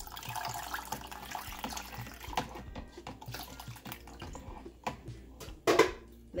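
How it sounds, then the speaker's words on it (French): Leftover water is poured into homemade passion fruit juice, heard as faint, close splashing and trickling with a few louder splashes toward the end. "On va mettre petit reste de l'eau qui était resté"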